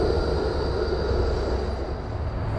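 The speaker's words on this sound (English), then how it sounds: "Bye bye E-Class tram." A Melbourne E-Class tram departs Southern Cross Station, giving a steady, loud rolling rumble with broad wheel and motor noise and a faint high whine throughout, with no talking.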